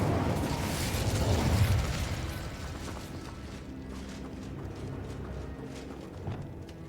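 An Incendio fire spell is cast in the Hogwarts Legacy video game, giving a rumbling whoosh of flame that swells loud in the first two seconds, then settles into a lower crackling rush with faint clicks.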